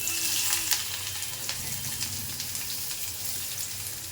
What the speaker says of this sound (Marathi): पहिला आधी कांदा घेऊया, कांदा फ्राय करून घेऊया.